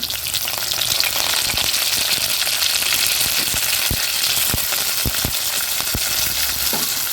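Onion and curry leaves fry in a pan for cauliflower kurma, a steady loud sizzle with scattered sharp crackles and pops, with no voices.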